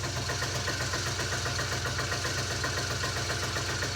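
A petrol engine idling slightly fast on its automatic choke, an even, continuous close-up running drone with a faint rhythmic pulse and no talk.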